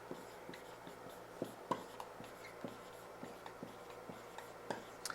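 Pen writing notes by hand on paper, a run of light scratchy strokes and taps close up, steady and quiet with small sharper clicks scattered throughout, no voices.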